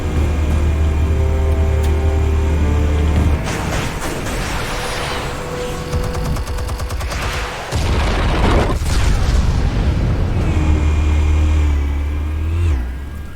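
Explosives detonating in the Batman Telltale game, a loud deep boom rolling out over a steady low engine-like drone, with a second burst midway and rumbling debris trailing off.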